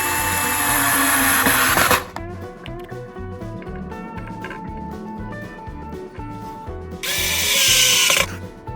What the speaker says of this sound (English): Screwing the boards together that make the frame of our bookshelf.